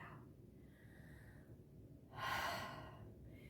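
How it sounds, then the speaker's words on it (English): Deep breathing during a full body workout stretch: a soft inhale followed by a louder, longer exhale, close and alone in a quiet room. "take a big breath in, breathe it out"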